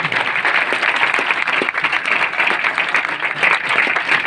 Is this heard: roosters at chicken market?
no